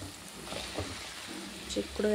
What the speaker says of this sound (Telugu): ఆల్మోస్ట్ టమాటా మెంతం కూర ఫ్రై అయిపోయింది